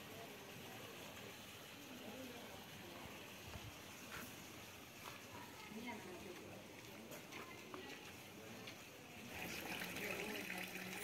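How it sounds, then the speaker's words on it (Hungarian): A small stream of water trickles and gurgles steadily outdoors near a footbridge below a castle hill, with a soft broadband wash that swells a little louder near the end. "többfelé csörgedeznek az erecskék"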